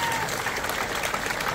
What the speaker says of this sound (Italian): un applauso ancora più forte